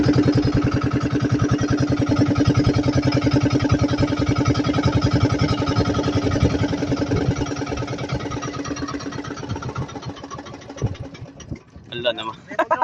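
A fishing boat's engine runs out at sea while crabbing with bamboo traps, a loud steady chugging drone with a regular pulse that weakens and falters near the end as it dies, with voices talking over it.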